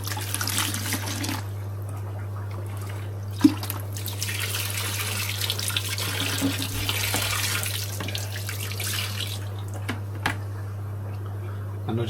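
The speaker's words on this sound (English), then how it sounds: "Now I do have a jug of water, and the jug of water should clean my bucket out a bit and separate some of that sand." Water from a jug pours into a bucket of sand in an aquarium fish room, a steady splashing trickle that swells and fades over a constant low electrical hum, with one or two sharp knocks.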